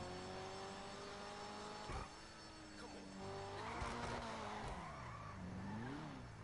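A car engine screams in GTA V, revving high with rising and falling pitch sweeps and some tire squeal, moderately faint under in-game noise, with no talking.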